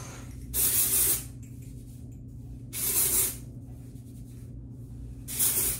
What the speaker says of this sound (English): I'm going to add dry shampoo because my hair is looking, it's not the best